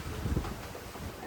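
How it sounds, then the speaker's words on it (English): Wind buffeting a sailboat at sea in roughly 16-knot gusts, a steady broadband roar and rumble with low, thumping microphone gusts throughout. "And it got really windy again. It's like around 16 knots again."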